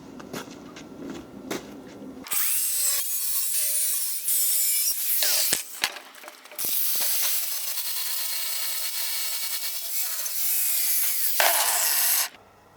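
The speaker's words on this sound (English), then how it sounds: "What I'll do now is cut off the excess." A power cutting tool grinds and screeches through sheet steel in long loud passes, with short pauses and lighter scraping in between, trimming the excess off a front battery box cover for a DIY electric vehicle.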